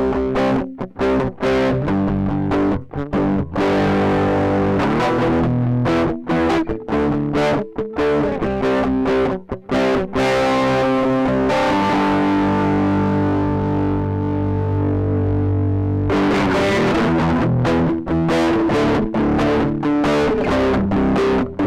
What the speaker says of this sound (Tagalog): Parang may pagka-distortion na yung tunog niya.